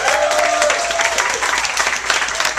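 A crowd at an opening show breaks into steady, dense applause that fills the room, loud and continuous throughout, with a faint voice briefly audible at the start.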